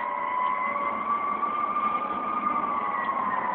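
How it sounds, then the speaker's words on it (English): Fire truck siren wailing in a steady sustained tone from a distance, heard indoors at a moderate level without talk. "What's that noise? A fire truck."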